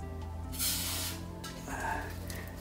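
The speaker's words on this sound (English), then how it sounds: "I'm gonna spray in a bit of contact cleaner in here." Contact cleaner sprayed from a can into an Amiga 600 keyboard, two short hissing bursts close by, the first stronger and about a second long, the second softer, over quiet background hum.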